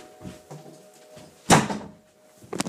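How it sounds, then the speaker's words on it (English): A door shuts with one firm thunk in a quiet room, set among a few softer handling knocks and light movement before and after. "just need to shut the door"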